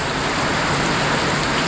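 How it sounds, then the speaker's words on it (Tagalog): Heavy rain pours down steadily outdoors at a construction site, a dense, loud, unbroken hiss of falling water throughout, with no voices. "malakas ang ulan"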